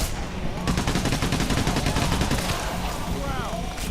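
Rapid automatic gunfire in Payday, a dense and loud burst of shots that runs almost without pause, with game sounds mixed in.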